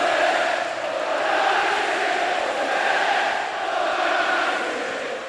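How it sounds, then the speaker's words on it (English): A large football crowd chants in unison, a dense, sustained roar of many voices swelling and easing in slow waves, loud and continuous with no single speaker standing out. "He was drowned out by the crowd chanting justice for the 96."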